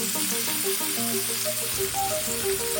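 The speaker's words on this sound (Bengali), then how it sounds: "পনিরগুলো ফ্রাই হয়ে যাওয়ার পর পাশের কড়াইয়ে জল ছিল" Pieces of paneer fry in hot oil in a kadai, giving a steady, dense sizzle that stays loud and even throughout, with no talking.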